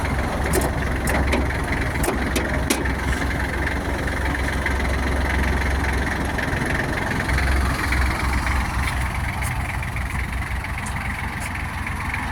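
A Kubota GL32 tractor engine runs steadily at close range while gears are shifted up through the range, a rough, knocking diesel rumble with occasional mechanical clicks, no speech over it.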